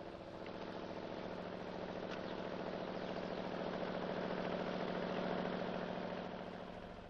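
A DZ-132-T or DZ-126V-2 bulldozer engine idles after warming up to 70-75 °C oil temperature, a steady, loud, close low drone with even mechanical vibration for the whole stretch and no voices.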